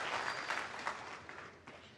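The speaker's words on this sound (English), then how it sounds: "listen to the applause he's getting" Snooker crowd at the Shanghai Masters final applauding a good split, a brief ripple of clapping that stays moderate and fades slightly toward the end, with no talk over it.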